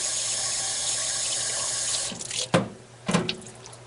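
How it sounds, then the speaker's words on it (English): Tap water runs steadily from a faucet into a bottle, a close hissing stream that stops abruptly, followed by two short splashy bursts and sloshes as the flow is restarted and cut off. "I'll just get some tap water."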